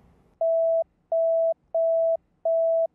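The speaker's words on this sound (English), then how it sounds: "Click on a tone to broadcast it to that channel." Dispatch radio alert tone from a Sonoran Radio tone board: four identical steady beeps, each about half a second long, repeated evenly with short gaps, clear and alone.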